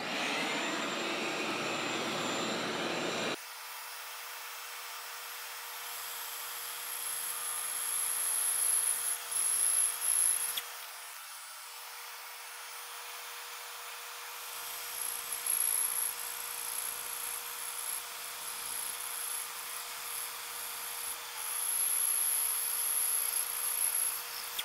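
Steady whirring power-tool drone while a thermoforming buck for an electric skateboard battery box is trimmed to taper at both ends; the tone holds level for most of the run, with no talking.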